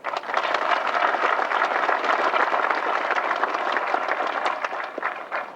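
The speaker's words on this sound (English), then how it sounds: "So let's give a big round of applause to State Representative Kenny Rapier." A crowd applauds steadily at a museum depot opening ceremony, dense clapping holding at a strong level throughout before tapering slightly at the end.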